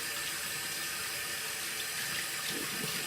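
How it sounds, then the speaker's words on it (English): Hot water runs from a sink tap into a basin as a steady, close, full rush of flowing water that continues unbroken throughout. "So I'm running the water"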